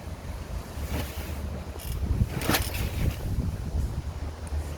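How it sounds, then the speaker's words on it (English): Wind gusts across a microphone outdoors at a guinea pig rescue, a steady rough roar of rumble and hiss with a stronger gust midway, no voices. "Wind today."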